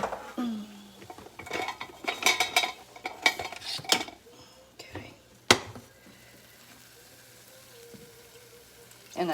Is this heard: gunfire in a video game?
no